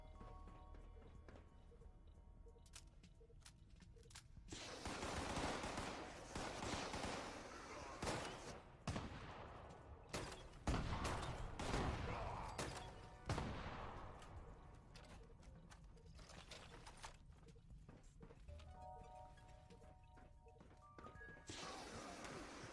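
Pistol fire in Fallout 76, a string of sharp shots and crashing impacts scattered across a busy game fight, loud and close, with bursts of rapid fire and quieter gaps between.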